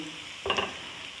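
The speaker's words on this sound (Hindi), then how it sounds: "बस प्याज गोल्डन ब्राउन हो चुका है" Onions frying in a pan until golden brown, for an egg lababdar. A soft, even hiss of frying carries one brief scraping stir in the middle.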